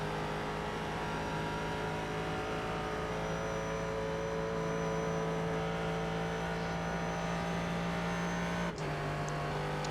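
Prototype race car engine in iRacing at Watkins Glen, a steady loud droning whine held at high revs in one gear, with a brief click near the end.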